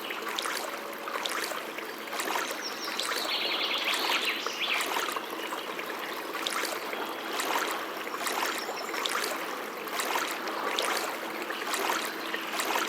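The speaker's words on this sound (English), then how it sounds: "a river is a body of water that flows downhill, and it's always moving" Water flows steadily as a river runs downhill in a children's canoe adventure game, a continuous rushing and trickling wash with no voices.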